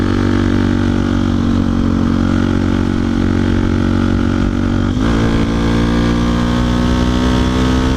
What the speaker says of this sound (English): I'm definitely not breaking speed limits up that hill, not on this bike.